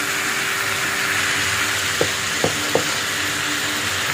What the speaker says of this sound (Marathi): त्यानंतर मी परत एकदा छान परतून घेऊया